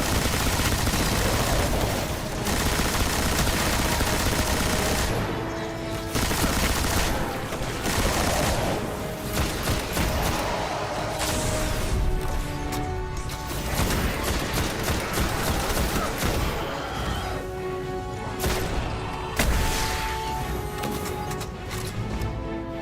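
A gun fires repeatedly in the video game Destiny, producing a loud, sustained stream of shots and impacts layered over busy game sounds.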